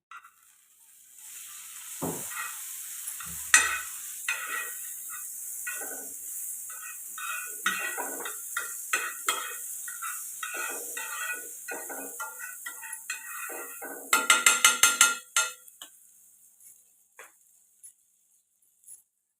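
Pav frying in Amul butter on a hot tawa, a soft crackling sizzle with intermittent scraping and tapping, a louder burst of rapid clicks near the end before it fades.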